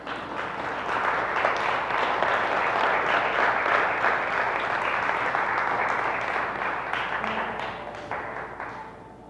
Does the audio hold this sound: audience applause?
yes